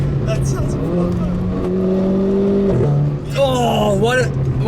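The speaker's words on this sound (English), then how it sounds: "Oh, what an exhaust fart." Renault Clio RS 220 Trophy hot hatch revving with engine tones rising and falling, ending in a burst of exhaust pops on the overrun; people talk loudly over it throughout.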